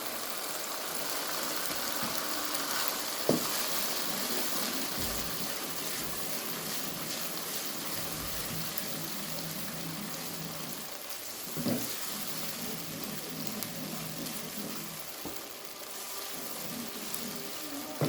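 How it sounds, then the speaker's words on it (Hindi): Minced meat with capsicum and yogurt frying in a pan, giving a steady broadband sizzle that runs throughout at moderate level, with a few brief clinks of utensils. "अब हम इस वक्त तक भूनेंगे इसको"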